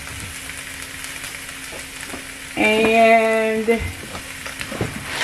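Onions and peppers fry in a pan with a soft constant sizzle, while a brief tonal whine with a stirring scrape rises in the middle before the sizzle carries on.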